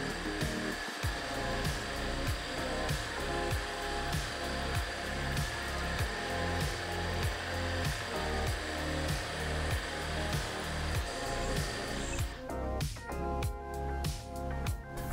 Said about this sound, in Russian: Для этого винт сначала протачиваем в нужный размер.